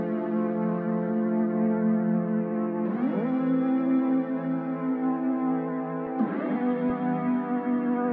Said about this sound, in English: I just sampled the original initial synth from the song